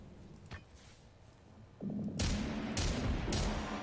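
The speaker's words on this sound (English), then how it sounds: "I can hear your gunshots." Sharp bursts of gunfire break out after a quiet stretch, loud and rapid, with several cracks overlapping in quick succession.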